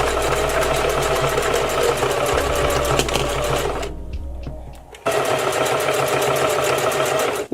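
A sewing machine stitches hair tracks in a loud, continuous rapid whir, pausing briefly for about a second midway before resuming at full speed.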